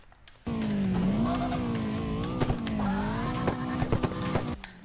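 Car engine in the CarX Drift Racing Online game, revving hard and steadily up close for several seconds, with the pitch wavering as the throttle shifts and a few sharp clicks and tire-squeal touches near the end.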